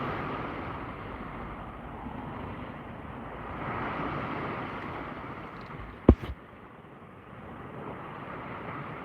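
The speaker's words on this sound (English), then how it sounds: "it's wind gusting." Wind gusting across open water during kayak fishing, a low buffeting rumble that swells and eases, broken by a sharp knock or thump partway through.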